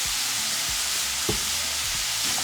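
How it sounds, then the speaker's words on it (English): Worcestershire sauce, ketchup and mustard stirred together in a hot pan, a loud, dense sizzle with low scraping strokes of the spoon repeating every half second or so. "Just going to mix it all together."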